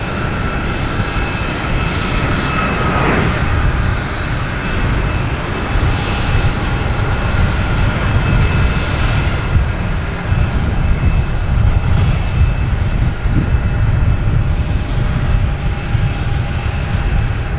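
Jet engine roar from a United Airlines plane at Boston Logan Airport, a loud continuous rumble with tonal whine holding steady throughout as the aircraft passes nearby.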